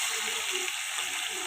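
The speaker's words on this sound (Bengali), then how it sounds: "প্রথমে আমি কড়াইতে পিয়ালি মাছগুলো দিয়ে নেব।" Piyali fish sizzle in hot oil in a wok, a steady close hiss of frying that fills the short moment without pause.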